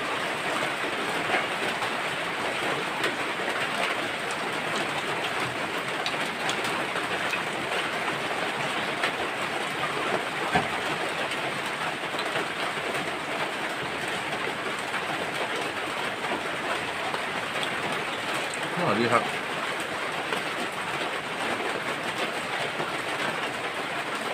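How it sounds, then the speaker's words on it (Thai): Rain falling in the countryside of Thailand's Isan region: a steady, even hiss of drops on surfaces that continues throughout at moderate volume. "ฝนมาแล่ะพี่น้อง"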